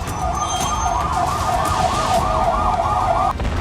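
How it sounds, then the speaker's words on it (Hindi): Wailing ambulance siren carrying wounded from fighting in Gaza, a steady oscillating tone held close and loud over dense street traffic rumble, cutting off abruptly near the end. "एम्बुलेंस से घायलों को अस्पताल पहुंचाया गया।"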